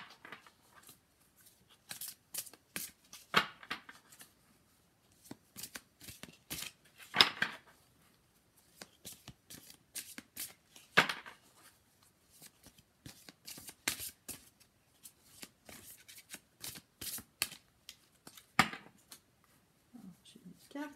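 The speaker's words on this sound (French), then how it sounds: "on va tirer une carte de synthèse pour clore" Tarot cards are shuffled before a card is drawn, giving close, soft riffling and slapping bursts in an irregular rhythm, with quiet talk in between.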